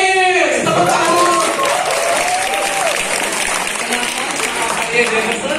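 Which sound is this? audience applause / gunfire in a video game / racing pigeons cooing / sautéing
audience applause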